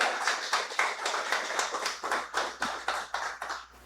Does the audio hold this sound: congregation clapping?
yes